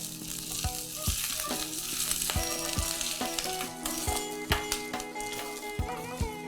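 Finely chopped green chilli and grated ginger frying in hot oil for a restaurant-style dal tadka, a loud continuous sizzle with crackling pops and occasional stirring clatter throughout.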